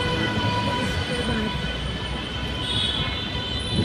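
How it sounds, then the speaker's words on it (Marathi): A train rumbles at a busy Mumbai railway station, a loud continuous roar of rolling cars and machinery filling the whole stretch with no speech. "रेल्वे स्टेशन छान आहे ना."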